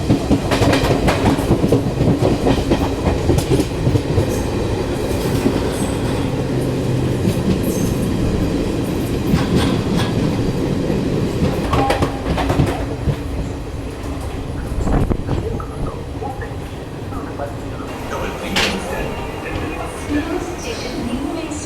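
The Mumbai–Kochuveli Garib Rath Express runs on the rails, a loud continuous rumble with rhythmic clickety-clack of wheels over joints and occasional sharper rattles, heard from on board.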